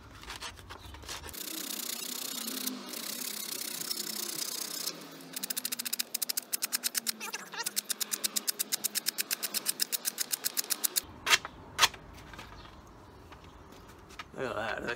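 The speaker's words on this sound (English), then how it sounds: "Start off with this 40 grit just to take some material off." A wooden walking stick is sanded by hand with 40 grit sandpaper, a brisk rhythmic run of rasping strokes, close and fairly loud, with talk before and after the strokes.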